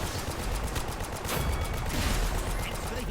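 Dense, continuous weapon fire in the video game Paladins, rapid shots hammering loud and close in a sustained fusillade aimed up a hill on a capture point, with a voice faintly underneath.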